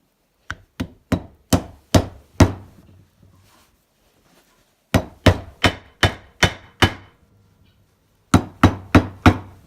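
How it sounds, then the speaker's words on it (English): Three bursts of sharp hammer strikes driving in a bearing dust cover on a Honda Recon ATV, five or six blows each in a steady rhythm, with short quiet pauses between the groups; close and loud. "Might need to use the hammer again."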